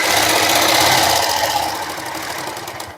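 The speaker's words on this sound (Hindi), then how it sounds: "अब यहाँ पर मैं बुकरम के साथ साथ में चलाऊंगी सिलाई।" A sewing machine runs a steady line of stitching alongside buckram on a suit's neckline, a continuous close, loud motor whir that eases slightly toward the end.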